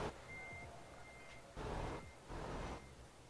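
A truck's reversing alarm in Euro Truck Simulator 2, three evenly spaced beeps over a steady engine hum, fairly quiet in the mix with no talking.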